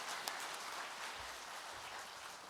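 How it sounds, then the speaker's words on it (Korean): Audience at a seminar panel discussion applauds a speaker, a soft, even patter of clapping from a distant crowd with no voices. "다시 한번 박수 한번 부탁드리겠습니다."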